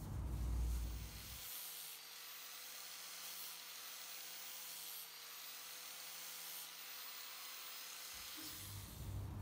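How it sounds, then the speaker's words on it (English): An angle grinder cleaning up metal faces on a scrap-built metal folder whines at a steady high pitch for several seconds, close and continuous, then spins down, with rumbling handling noise before and after. "I've just cleaned up the faces on there with the grinder"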